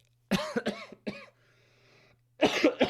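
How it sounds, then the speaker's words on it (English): A person coughs several times in quick bursts, pauses briefly, then coughs again in another short cluster, close and fairly loud. "you'll have to excuse me, I've been having a cough for the last 2 weeks"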